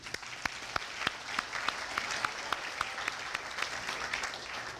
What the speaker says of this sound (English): I think they all deserve a great round of applause.